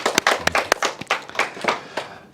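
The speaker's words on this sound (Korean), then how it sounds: "먼저 박수 한번 치고 시작할까요?" A lecture audience claps at the opening of a talk for small business owners, a room of sharp, uneven hand claps that stay close and fairly loud before fading slightly, with no speech.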